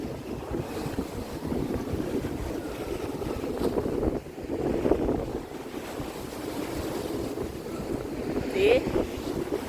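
Sea waves roll and wash continuously in the open air at Blackpool Pleasure Beach, with wind noise and faint indistinct voices mixed in.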